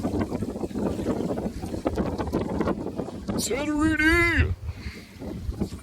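A large passenger ferry at sea off Santorini: heavy wind buffeting and a low engine rumble under chatter, with one voice briefly shouting out loudly.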